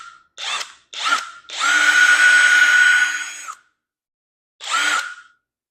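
A budget DeWalt-compatible cordless impact wrench is triggered at speed 2: two short whirring bursts, a sustained high motor whine lasting about two seconds, then one more short burst after a pause, close and loud.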